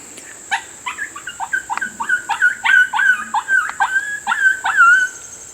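Wounded animal shot during a hunt, howling and yelping in a close, loud run of rising and falling wavering cries, repeated about a dozen times, with no talk.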